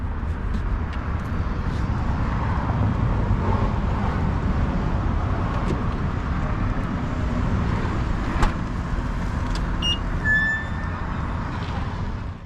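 A BMW G80 M3 being driven, heard from inside as a steady, loud, broadband engine and road roar that holds constant without pause and has no talking over it.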